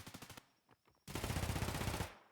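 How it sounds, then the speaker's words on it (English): Loud bursts of rapid automatic gunfire from a multiplayer arena shooter game: a quick rattling string, a brief lull with scattered pops, then a long dense sustained volley. "everyone's shooting loud guns"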